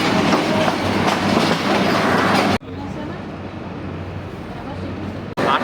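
The Rangpur Express rumbles past at close range with steady, loud rolling wheel noise, which cuts off sharply partway through and continues at a lower level, as if heard from inside another train.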